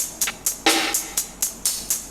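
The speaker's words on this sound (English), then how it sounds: "I then layered two different types of snare." Two different layered snare samples from a hip-hop beat, sounding as crisp, sharp hits spaced roughly a quarter second apart, with one fuller, noisier crack among them, heard alone without voices.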